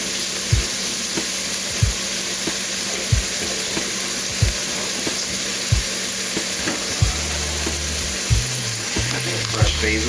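Fresh garlic sizzles in hot blended oil for a garlic steak dish, a loud, continuous crackling fry punctuated by regular soft knocks, like stirring, roughly every second.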